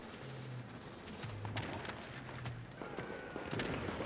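Gunfire rattles in bursts during a hard Clear Sky Incursion in the video game The Division, with rapid sharp shots and scattered electronic beeps in a busy, moderately quiet mix.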